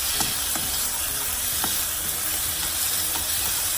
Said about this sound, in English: now I'm going to stir fry that beef